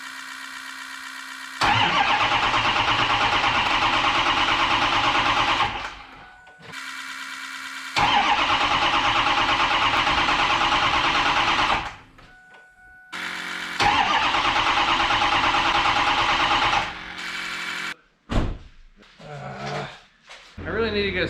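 A Ford F-350 truck engine cranks and catches in repeated loud start attempts, each running rough for a few seconds before cutting out, with brief gaps of quiet between them and some talk near the end.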